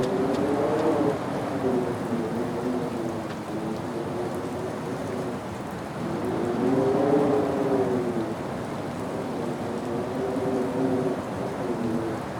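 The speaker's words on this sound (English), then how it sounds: "The rain poured down, the thunder rolled" Heavy rain pours steadily through a thunderstorm with low rolling thunder, a continuous dense hiss beneath a soft wavering tonal drone, with no voices.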